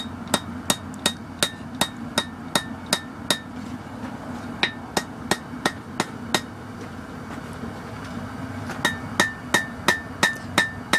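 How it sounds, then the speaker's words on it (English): Small hammer forging a barbecue fork: quick, light ringing taps on metal in rapid bursts with short pauses between, close and clear. "I switched over to a smaller hammer here."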